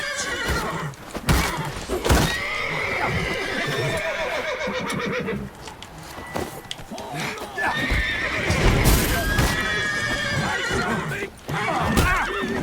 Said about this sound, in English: these horses need to shut the fuck up